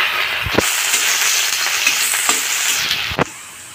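Ground dried chili and garlic paste hits hot oil in a kadai with onion, giving a bright crackling sizzle punctuated by several sharp knocks and scrapes of stirring against the pan.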